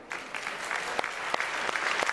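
Sustained applause from an audience at a sports awards ceremony, dense and steady clapping with a few sharper claps standing out, no voices on top.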